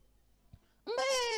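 A goat gives a single loud, nasal bleat that starts suddenly after a quiet pause and holds steady, close by with no talk.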